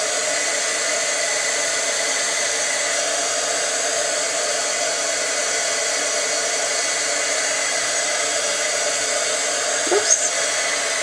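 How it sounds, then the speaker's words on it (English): A heat tool runs steadily and fairly loud for the whole stretch, melting embossing powder on a handmade card, with a brief small knock near the end. "we're going to watch the heat melt the embossing powder and give it a really sparkly, shiny look"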